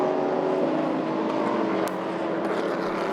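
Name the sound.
race cars passing, 2016 6 Hours of Bahrain WEC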